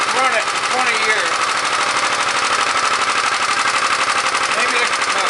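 A 1934 Briggs & Stratton Model A engine driving a Wall-Quincy air compressor, unrun for 20 years and with a carburetor needing attention, chugs in a rapid, even rhythm. The sound is loud and close, with a steady mechanical clatter.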